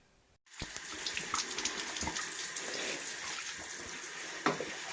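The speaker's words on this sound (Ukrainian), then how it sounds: "після вечірньої прогулянки миє лапи" Water runs steadily from a faucet into a sink, with small splashes and shifting as a dog's paws are rinsed under the stream after an evening walk, close by.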